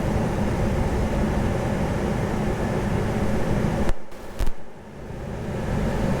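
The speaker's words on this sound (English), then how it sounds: "Just the sound of the air conditioner blowing." Steady, loud blowing of the air conditioner inside a 2002 Chevrolet Suburban 2500 LT 4x4 with an 8.1L V8, a broad continuous whoosh while driving that briefly dips and thumps near the end.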